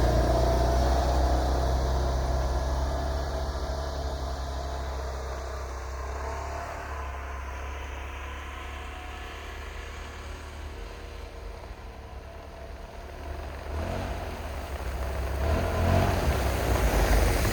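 A Can-Am Defender HD10 side-by-side fitted with long rear tracks drives through snow, its engine droning steadily and loud up close, easing slightly in the middle, then building again toward the end.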